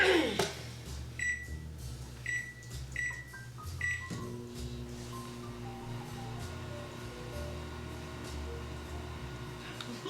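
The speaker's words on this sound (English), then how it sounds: "Wow, your microwave turns very slow." A microwave oven reheating on a low setting hums steadily, with several short electronic beeps and a clunk near the start, followed by a continuous low drone and faint rattling.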